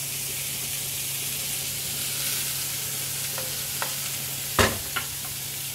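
Korean-style beef strips sizzle steadily on a hot pan in a continuous bright hiss, with a few faint clicks and one sharper knock of a utensil near the end; no talking.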